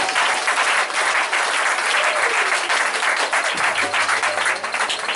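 A church congregation applauds in sustained, dense clapping that fills the space, with a low hum entering near the end.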